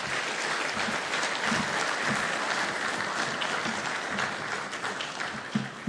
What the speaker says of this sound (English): I think she deserves a better round of applause than that